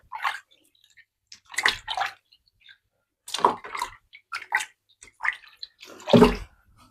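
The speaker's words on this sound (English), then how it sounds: "I'm literally just going to run my hands in the water." Hands swishing and splashing through water in a home kitchen while baking peanut butter cookies: irregular short bursts of sloshing and dripping, close and moderately loud, separated by brief quiet gaps.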